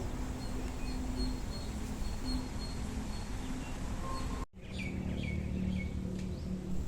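Small birds chirp and tweet in short repeated calls around a village in the early morning, moderately distant over a steady outdoor background hiss, with a brief dropout partway through.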